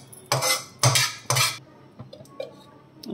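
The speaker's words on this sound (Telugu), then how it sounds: "దీన్ని ఒక బౌల్లోకి తీసేసుకుంటాను." Three sharp metallic scrapes and clinks of a spoon against a pan as garlic mutton keema curry is transferred into a bowl, followed by fainter scattered taps and small clatters.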